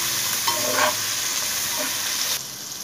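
Chopped small onions dropped into hot oil in a pan for masala Maggi, a broad steady sizzle with a brief stirring scrape, close and continuous.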